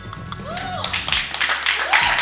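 Scattered clapping from an audience at a film music launch event, as applause for a singer begins, heard under someone speaking loudly with music playing behind him.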